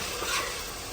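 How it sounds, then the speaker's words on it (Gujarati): Tomato chutney sizzles in a hot pan of oil as it is stirred in, a steady bright hiss filling a single close, continuous second. "તો હવે નાખી દઈએ ટમેટાની ચટણી"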